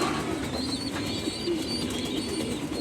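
A pair of racing pigeons coo softly in a loft, low repeated coos and faint chirps over a quiet background hiss, with no talk.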